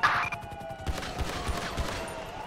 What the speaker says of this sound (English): Oh, love that gun sound.